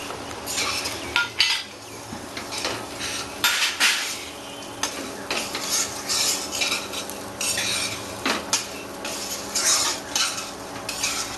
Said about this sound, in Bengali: এবার আমি চালটা এতে দেবো